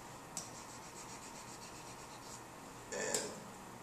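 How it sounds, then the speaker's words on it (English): Rubbing of an eraser over handwritten math work on paper, a soft steady scrubbing rasp that runs quietly for several seconds and swells louder near the end. "And let's go ahead and erase this."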